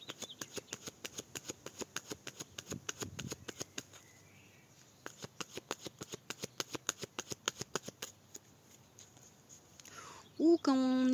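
Tarot cards are cut and shuffled in a rapid, pattering run of crisp card taps. After a brief pause the shuffling resumes, and the clip closes with a short vocal sound.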